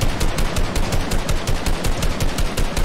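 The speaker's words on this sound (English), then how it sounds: "watch out. They're sniping at you guys." Rapid gunfire from snipers in the Fortnite video game, a dense, loud run of shots cracking in quick, steady succession throughout with no talking.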